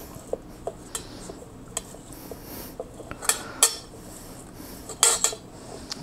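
Sushi rice is pounded in a bowl, giving irregular knocks and clinks against the bowl, some sharp and louder, over a quiet background.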